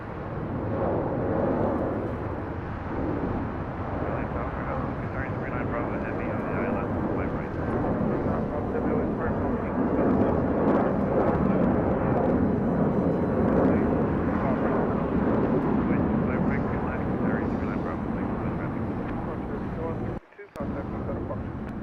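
Airbus A319 jet engines roar at LAX as a continuous, loud, broadband rumble that holds steady for about twenty seconds, with a brief dropout near the end.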